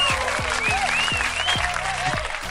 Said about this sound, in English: Hand clap to you,